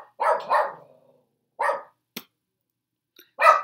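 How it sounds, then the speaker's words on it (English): Indoors, a dog gives a quick double bark, then a single bark a moment later, then another loud bark near the end, all close with silence between. "Dogs."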